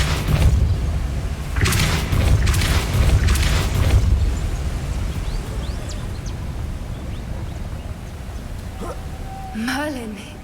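Depulso force spell cast in Hogwarts Legacy: several loud, forceful bursts and booms in quick succession early on, then a steady ambient rumble and a brief swooping magical tone near the end.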